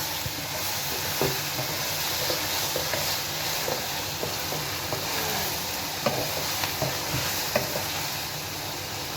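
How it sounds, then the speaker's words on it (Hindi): Okra and tomatoes sautéing in a little oil in a pan for masala bhindi, giving a steady close sizzle and frying crackle with occasional soft stirring scrapes throughout. "2-3 मिनट के बाद हम अब डालेंगे टमाटर और अब अच्छे से भून लेंगे इसको"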